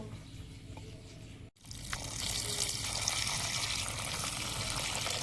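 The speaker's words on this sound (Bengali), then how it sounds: "সয়াবিন জলে ভিজিয়ে দেব।" Water poured over soybeans to soak them for cooking outdoors, a steady broadband pouring and trickling wash that pauses briefly and then continues louder and fuller, close and alone without talk.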